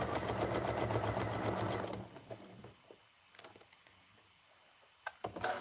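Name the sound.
sewing machine stitching quilt-as-you-go quilt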